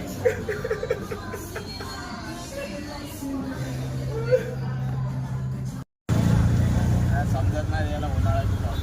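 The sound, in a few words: auto-rickshaw ride home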